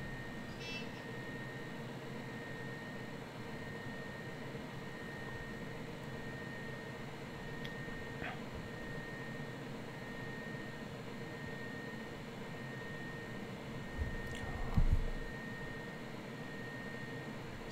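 A Seagate ST251-1 hard drive running, a steady, faint motor whine and hum with very quiet seek ticks barely above the rotation noise, plus a soft bump near the end.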